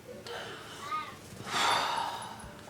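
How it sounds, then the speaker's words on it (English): A person with a head cold sniffs a few times, with short nasal inhales and a louder, longer breathy snort near the middle; no words are spoken. "sorry for sniffing."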